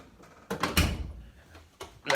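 The heavy dual-slide drawer of a 56-inch Harbor Freight US General tool chest rolls along its slides, with a few moderately loud knocks and clunks close by and no talking.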